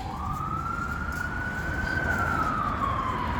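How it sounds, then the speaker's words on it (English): A police siren wails steadily in the distance in New York, its pitch slowly rising and falling over low rumbling traffic noise. "You hear the sirens?"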